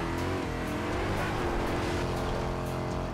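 A Ford Capri in the racing game Forza Horizon 2 drones with a steady, loud engine note, heard from inside the car, holding a sustained rumble with a rich stack of harmonics and no talking over it.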